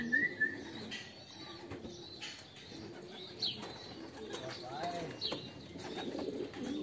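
Racing pigeons arriving at a loft during a pigeon race, with soft cooing and bursts of wing flapping amid general bird chirps, fairly close and continuous, with faint human voices in the background.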